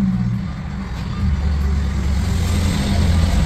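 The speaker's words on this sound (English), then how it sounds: "let's start the car" Engine of an Audi A4-family car starts and settles into a steady low idle after about a second, a continuous rumble close by with no talk.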